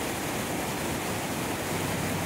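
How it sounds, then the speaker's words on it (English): Mountain water rushing through the Norwegian fjell, a dense, constant roar of flowing and cascading water, loud and unbroken with no voices. "And of course, water everywhere, flowing, rushing,"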